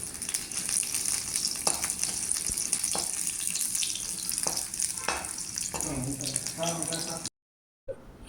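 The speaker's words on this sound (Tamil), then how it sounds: "அதில் 4 காஞ்ச மிளகாய் சேர்த்துக்கலாங்க. எல்லாத்தையும் சேர்த்து ரொம்ப லேசாக ஃப்ரை பண்ணால் போதும்." Dried red chillies and spices fry lightly in oil for a Punjabi dahi pakora curry, a continuous bright hiss with occasional stirring scrapes before a brief cut to silence near the end.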